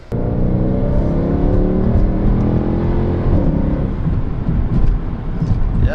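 A Mercedes 63 AMG on a test drive pulls hard under acceleration, its engine note climbing and then settling into a lower rumbling cruise, close and loud, with a voice speaking faintly over it.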